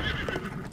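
A horse in Breath of the Wild lets out a short, close whinny after being zapped, with faint hoof clops beneath.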